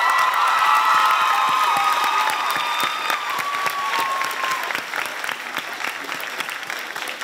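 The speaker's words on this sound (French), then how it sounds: "Donnez une bonne main d'applaudissement à notre lauréate du premier cycle, Coralie Gervais." Audience applause and cheering at a school excellence awards evening as a student laureate is honoured: loud, sustained clapping from a large crowd with a few whoops and raised voices, tapering slightly toward the end.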